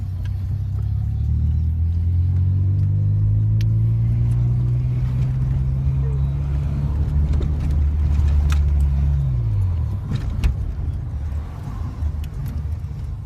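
Manual stick-shift car engine held at a loud, steady low rumble as a learner gives it gas, the pitch slowly climbing before dropping away sharply, then settling into a quieter idle.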